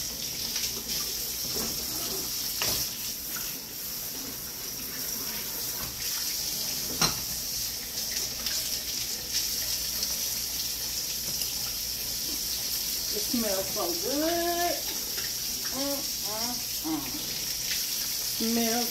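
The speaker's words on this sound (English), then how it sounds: "Run that little dish water here." Kitchen tap running dish water into a sink, a steady broadband rush of water throughout with brief clinks, while a person speaks quietly near the end.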